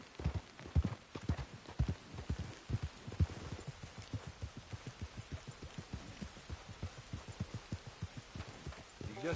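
Horse hooves clip-clop steadily in the video game Red Dead Redemption 2, a brisk, even rhythm of close, distinct hoofbeats continuing throughout at moderate volume.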